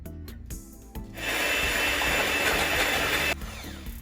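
Eggs and seed oil being whisked in a bowl, a steady, close, continuous scraping and beating that runs for most of the moment after a few brief knocks, with no talk.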